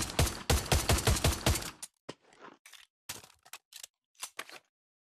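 A 1911 handgun in the VR game Pavlov: a burst of several quick loud shots, then a string of separate mechanical clicks and clacks from the reload, spaced out with short silences between.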